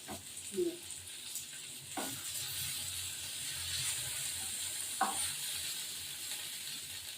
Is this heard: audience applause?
no